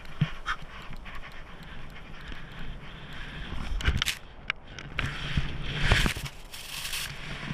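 A dog pants outdoors in steady rhythmic breaths, close by, with scattered rustling and thumps of movement and no talking.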